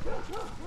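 A dog gives a short whimpering, yipping vocalization close by on a mountain hike trail, a brief burst with no talk over it.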